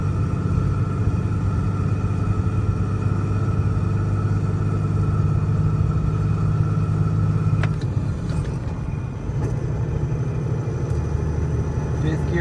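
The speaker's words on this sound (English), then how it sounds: "The gear rollover." Gear rollover rattle from a G56 manual transmission in a Cummins diesel truck at idle, a steady low rumbling clatter that runs throughout, briefly shifting character midway, with a person speaking over it.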